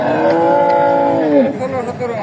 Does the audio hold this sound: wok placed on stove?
no